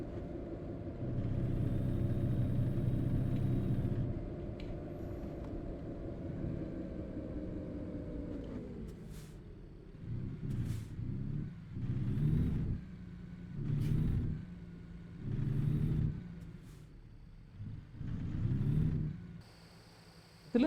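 A reefer truck's engine in American Truck Simulator drones steadily at a loud, even pitch, then shifts lower and pulses in repeated swells as the truck keeps driving, with no talk over it.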